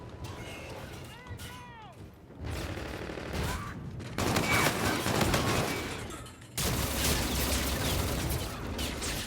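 Rapid bursts of Kbar Invective gunfire in a video game, loud and broadband, arriving in sustained volleys with brief gaps amid other game noise.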